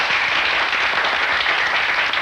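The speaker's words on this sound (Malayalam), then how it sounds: "എല്ലാവരും ഒന്ന് കൈയടിച്ച്." Steady, dense applause from a large crowd fills the whole stretch at an even loudness, as a gathering in a Malayalam film scene claps to honour volunteers at a community labour festival.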